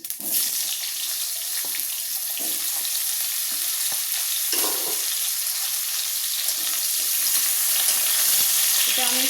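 Oil frying hard in a pan with tempering spices, dried red chilli and plenty of mustard seeds, with mango pieces added, a loud steady sizzle throughout with occasional clinks and stirring and someone speaking briefly over it.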